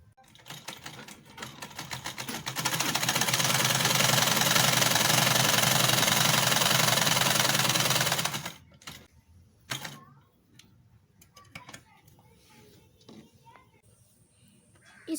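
A sewing machine stitches a folded one-inch fabric belt for a girl's capri pant, a steady loud whirring run of about six seconds that stops abruptly, followed by quieter handling noises.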